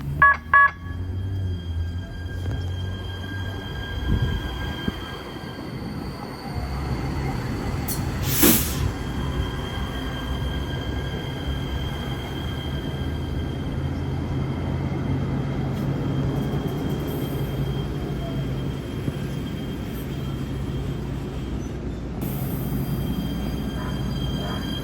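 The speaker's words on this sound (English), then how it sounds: "Also looks like another train has just arrived here," An LA Metro train pulls into Expo/Crenshaw station, a steady low rumble of the railcars with a brief sharp hiss partway through, heard close on the platform with no talk.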